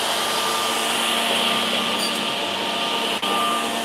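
An intelligent edge banding workstation runs with pneumatic cylinders setting its positions, giving a loud, steady machine whine and hum that holds for the whole stretch, with one brief dip near the end.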